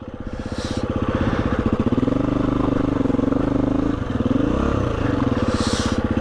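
A motorcycle engine drones loud and close on a rough old coach road in the Lake District, its pitch rising as it revs, then stumbling briefly at a missed gear shift before pulling on.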